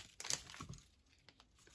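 Adhesive tape crackles and rips close by, a quick burst of tearing followed by a few softer sticky clicks, faint and alone.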